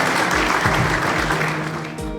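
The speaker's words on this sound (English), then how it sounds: "Let's appreciate them with a big round of applause." A school audience at an Independence Day celebration applauds the participants with a dense, loud burst of clapping from many hands that holds steady, then slowly tapers.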